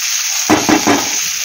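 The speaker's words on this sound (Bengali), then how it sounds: "এখানে করলা আলু ভাজা বসিয়ে দিয়েছি" Oil sizzles steadily as bitter gourd and potato fry in a pan, with three quick stirring or tossing bursts partway through over a constant hiss.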